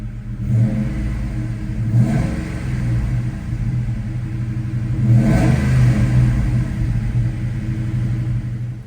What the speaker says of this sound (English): A couple revs.